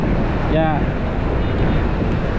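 Strong wind gusts across an open street near the southern bus station on a cool late afternoon before Tet, a steady loud roar buffeting the microphone throughout, with one brief spoken word near the start.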